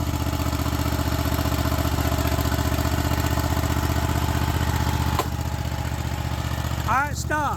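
A Craftsman Z6400 riding lawn mower idles with a steady, close mid-pitched engine drone while being driven onto a trailer, a short knock near the five-second mark and a brief voice at the end.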